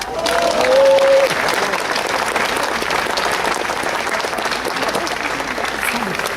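Loud audience applause fills a touring village show in Boudry, dense crowd clapping held at an even level throughout, with a brief tone near the start.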